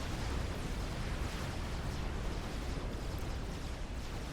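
Battleships blown apart by torpedo bombers in the strategy game Supreme Commander: Forged Alliance, heard as a dense, steady roar of explosions and rumbling blasts without pause.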